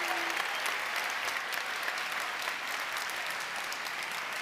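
A large audience at a bachelor's in management graduation ceremony applauds the graduates, a dense, even wash of clapping at moderate level with no pauses.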